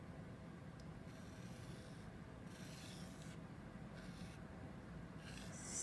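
A finger drawing slowly through loose sand in a tray, giving a soft, faint, continuous scratchy rubbing with a few brief louder swipes, close up and with no talking.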